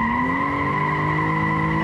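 A 2006 Mitsubishi Eclipse with a 3.8-litre V6 pulls hard under acceleration, its steady engine drone rising slowly in pitch, loud and close with no voices.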